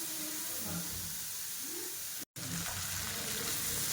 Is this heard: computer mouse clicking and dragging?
no